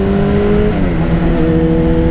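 Kawasaki motorcycle engine under throttle while riding slightly uphill, a loud steady drone whose pitch shifts and climbs over two seconds, close to the bike with wind noise.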